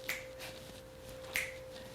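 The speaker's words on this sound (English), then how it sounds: "Snapping my fingers." Finger snaps during a cardio flow workout: two crisp, close snaps about a second apart over a steady background hum.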